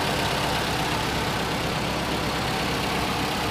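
2014 Toyota RAV4 all-wheel drive with a 2.5 liter engine idling, a smooth steady hum and rumble heard close and even throughout, with no talk.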